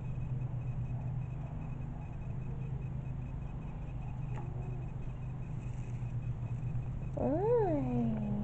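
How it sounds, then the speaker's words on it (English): A calico cat purring with a low, steady rumble, then giving a single rising and falling meow close by near the end. "You're a calico cat."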